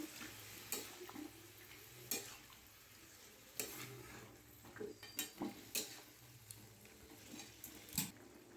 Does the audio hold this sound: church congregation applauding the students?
no